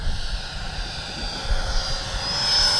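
A Freewing F-22 90mm high-performance RC jet flies past with landing gear and flaps down, its ducted-fan whine steady and moderately distant, rising slightly as it approaches.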